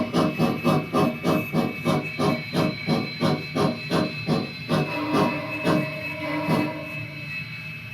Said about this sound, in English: we're gonna bring the steam down to an idle.